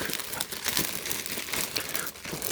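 A plastic bag from the Dodgers team store crinkles and rustles up close, with continuous crumpling that is loud and steady throughout.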